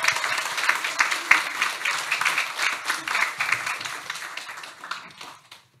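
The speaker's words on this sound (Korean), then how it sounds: "우리 나오실 할렐루야 박수로 환영하겠습니다." A church congregation at a revival service bursts into dense, sustained applause with many hands clapping at once, holding steady for several seconds before thinning out and fading at the end.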